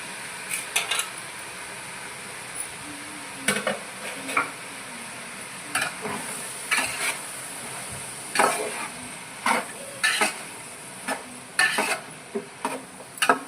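Sliced mushrooms, a full kilo of them, fry in a pan with a continuous sizzle, while a utensil stirs and scrapes through them in irregular clicks and knocks spread across the span, close and moderately loud, with no talking.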